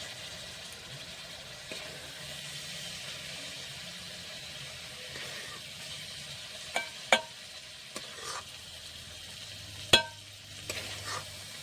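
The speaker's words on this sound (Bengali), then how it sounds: "এখন আমি আবার চিকেন আর গ্রেভিটা দিয়ে দেবো এখানে।" Chicken and gravy go into a home-style dum chicken biryani pot in layers, giving a steady low sizzle with stirring and a few sharp clinks of a spoon against the pot, close by and without any talk.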